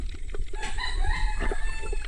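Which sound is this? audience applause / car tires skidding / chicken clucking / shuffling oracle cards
chicken clucking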